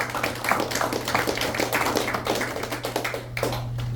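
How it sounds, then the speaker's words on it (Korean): A conference audience applauds a professor at a strategy forum: steady, dense clapping from many hands for several seconds, fairly close, with a low electrical hum beneath. "우리 박성재 교수님 박수 한번 쳐주십시오"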